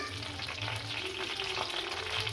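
Coriander seeds fry in a pan for tomato chutney, giving a quiet, steady crackling sizzle with faint stirring, heard alone and close.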